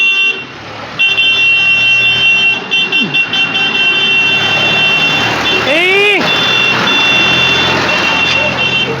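A tractor out hauling soil shifts into reverse, its steady loud diesel running throughout under repeating reversing beeps, with a brief rising warble partway through and people talking nearby.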